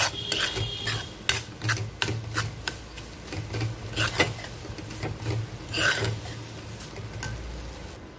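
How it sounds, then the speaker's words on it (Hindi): Semolina being stirred in ghee in a pan for suji halwa, a steady scraping and rubbing of a spoon against the pan with a soft sizzle underneath, close and continuous with repeated sharp scrape strokes. "ब्राउन ना हो जाए बस इसको ऐसे चलाते रहना है नहीं तो ये नीचे लग सकता है"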